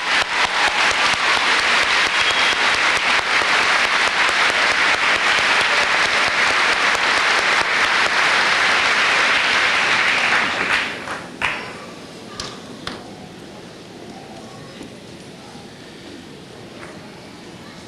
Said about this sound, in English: Please give this wonderful group of people a round of applause.